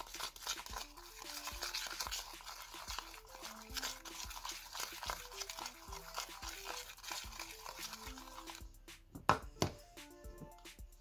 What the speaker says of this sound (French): il faut bien mélanger jusqu'à qu'il n'y ait plus de petits grains de sucre